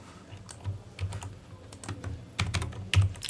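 Someone types on a computer keyboard during an SQL session. The clicks are close and come in irregular short bursts with uneven gaps, a few louder keystrokes stand out near the end, and a faint low hum sits underneath.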